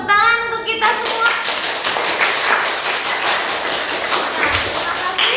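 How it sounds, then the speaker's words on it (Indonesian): A classroom of students claps after their group presentations, brisk rapid hand claps from many pupils following a brief spoken voice, lively and close, continuing steadily to the end. "Tepuk tangan untuk kita semua"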